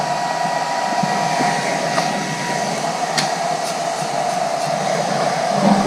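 Continuous steady buzzing hiss from an alternator-based welder running at 140 amps, with sharp crackling spikes over a constant droning tone, loud and close without pause for the whole stretch.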